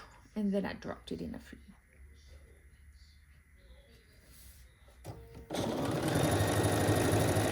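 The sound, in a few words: sewing machine stitching string quilt strips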